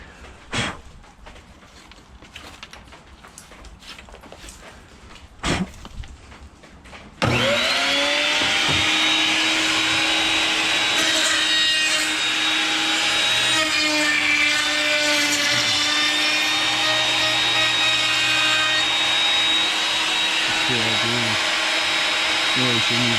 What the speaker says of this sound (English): we're gonna hit it with a sander